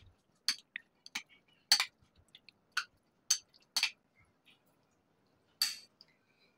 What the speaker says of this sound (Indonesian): Kita aduk dengan rata.